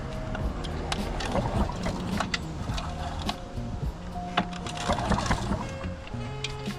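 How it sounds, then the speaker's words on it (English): A mini speed boat motor's pull starter is tugged gently several times, giving a steady series of short mechanical clatters and ratchety strokes, close and fairly even in rhythm. "Just going to go ahead and do it real gently with the pull starter."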